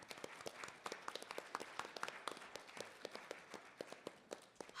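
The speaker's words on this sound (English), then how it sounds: "Let's give them all a round of applause." A breakfast business gathering's audience gives a sparse, fairly quiet round of applause, individual hand claps standing out distinctly with only a few people clapping.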